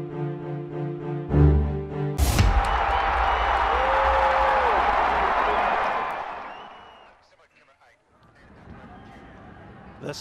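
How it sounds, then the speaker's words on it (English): Stadium crowd at the Bangamata U19 Women's International Gold Cup football match between Bangladesh and Kyrgyzstan, a loud sustained roar of cheering that swells after a sharp hit, then fades away toward the end. "This is the fantastic crowd that we're seeing at the Bangamata"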